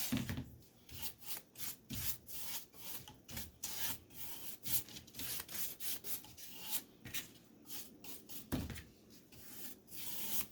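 A dry paintbrush scrubs paint onto a canvas in quick, irregular rasping strokes, soft and close, with no voices.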